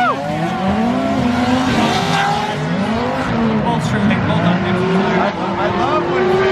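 Race car drifting at Gridlife South, engine revving in rising and falling sweeps with tire squeal, loud and continuous, with talk from nearby voices over it.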